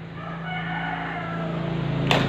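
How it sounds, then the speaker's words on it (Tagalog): A rooster crows, sounding fairly close, over a steady low hum and some background noise. "manok na ni Ariel Toyo"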